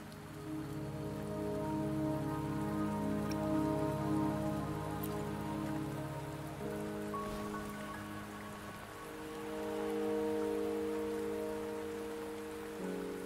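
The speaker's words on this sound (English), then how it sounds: "The rain won't last much longer." Steady rain falls in the video game Wuthering Waves, a dense continuous patter on surfaces that holds at an even level throughout, with no voices.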